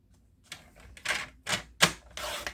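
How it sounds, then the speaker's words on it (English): Card-making paper is cut to size with a trimmer in a few sharp strokes, four or five crisp slicing and clacking sounds spaced roughly half a second apart, close and loud against near silence. "Rotate your paper and cut it at 2 7/8 for this piece."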